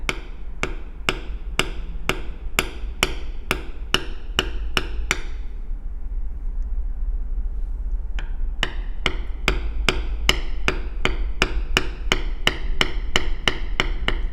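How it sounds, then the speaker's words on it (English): A leather beveling tool is struck steadily on wristband leather, sharp evenly spaced taps in a quick rhythm, pausing for about three seconds midway before resuming, close and alone. "I'm letting that tool come up out of the leather and slide over slightly."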